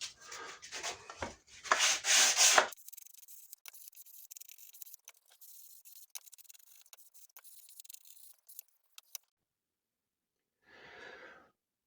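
A wooden furniture facade panel is sanded by hand, with loud rasping rubbing strokes at first, then softer intermittent scrapes and light taps, ending in a brief final rub after a pause.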